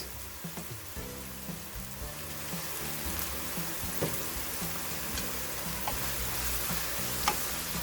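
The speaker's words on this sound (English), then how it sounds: "saute the onion and garlic until they are somewhat softened" Diced onion and three garlic cloves sauté in olive oil with a sprinkle of salt, a soft, continuous rain-like sizzle with occasional light stirring taps, faint and close, no talking.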